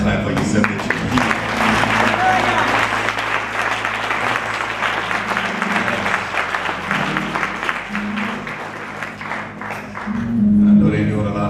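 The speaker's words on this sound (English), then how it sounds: "Just clap for yourself that you're here" Church congregation clapping at New Beech Grove during a Sunday service, a sustained full round of applause with a low hum underneath and a voice rising near the end.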